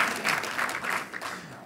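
Brief scattered clapping from an audience at a speech, a short uneven patter of hands lasting under two seconds.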